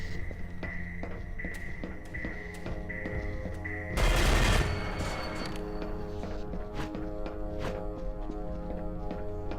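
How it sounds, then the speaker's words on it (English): Rapid gunfire in the video game E.Y.E. Divine Cybermancy pounds a turret with repeated regular shots, broken by a loud roaring blast partway through before the shooting resumes. "We're gonna have to blow up the turret because he got pissed at it"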